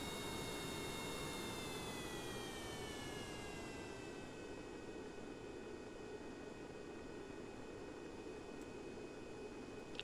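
Jet aircraft engines on a spaceplane in the game Kerbal Space Program idle as the craft slows. A constant broad roar carries a high whine that glides steadily downward in pitch for about ten seconds.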